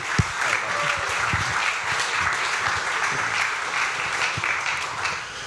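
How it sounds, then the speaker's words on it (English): An audience at an indie games pitch event gives sustained applause, dense clapping filling the room at an even level for the full stretch. "let's give them a round of applause, everyone"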